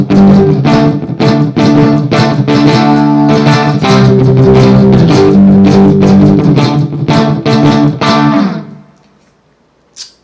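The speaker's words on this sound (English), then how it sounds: "for my crunch sound, I'm going through a Marshall JTM 45 sound." Electric guitar with a crunchy overdriven tone through a Marshall JTM 45 amp, loud strummed rhythmic chords for about eight seconds before ringing out, then a faint final pluck.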